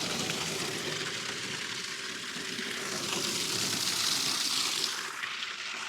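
Water gushes steadily into a 50-gallon trough for cows and sheep on a farm, a continuous broadband hiss that swells slightly midway and runs the whole time with no talking.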